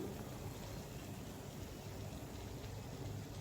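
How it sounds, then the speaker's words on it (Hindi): Mixed vegetable pakoda (bhajia) frying in hot oil, a steady dense sizzle and crackle like rain, close and continuous with no talking. "अब मैं इसके अंदर फटाफट अभी दूसरा भजिया भी डाल देती हूँ।"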